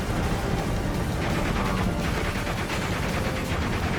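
Infantry gunfire at a Panzer tank in the Steel Division: Normandy 44 battle game, a dense continuous crackle of rifle and machine-gun fire with heavy rumbling, loud and unbroken throughout.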